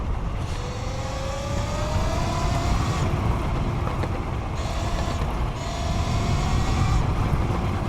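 A motorcycle engine in a video game revs with rising throttle pulls, a loud, continuous mechanical drone that swells and dips in pitch over several cycles, with no voices.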